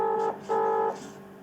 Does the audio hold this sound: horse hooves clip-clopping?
no